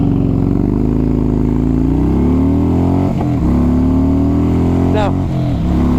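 A Harley-Davidson Dyna Low Rider motorcycle accelerates hard, its loud, close engine note climbing steadily, with brief dips around gear changes midway and near the end.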